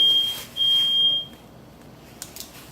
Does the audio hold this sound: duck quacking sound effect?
no